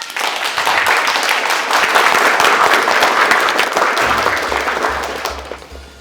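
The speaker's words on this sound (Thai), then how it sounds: "ขอเสียงปรบมือด้วยนะครับ" A studio audience on a Thai children's series gives loud, dense applause for the closing performance. It swells and slowly tapers, with a low electronic tone entering near the end.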